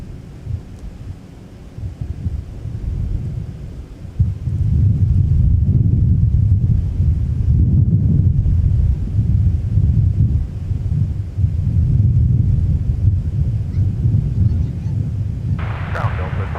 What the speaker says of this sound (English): Next up, we got our Frontier A321neo off to Orlando